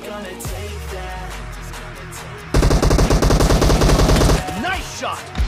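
PUBG gunfire: a loud, rapid automatic burst of evenly spaced shots kicks in midway and runs for about two seconds, after quieter ambient game sound and a few scattered distant shots.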